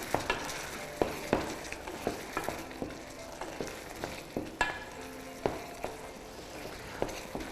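A spoon stirs apple filling for chaussons aux pommes in a saucepan over medium heat, scraping and clinking in irregular strokes above a soft steady sizzle, close and fairly quiet with no talking.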